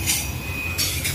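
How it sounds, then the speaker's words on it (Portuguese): A night train rolls out of a tunnel in downtown Maringá, Paraná, steady rumbling rail noise with squealing wheels and a high metallic whine, close and continuous. "Trem noturno saindo aqui do túnel de Maringá."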